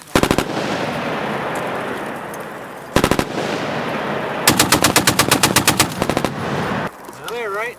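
A machine gun fires several rapid bursts: a short opening volley, a brief second burst, then a longer string of sharp, evenly spaced shots, loud and close, with quiet pauses between.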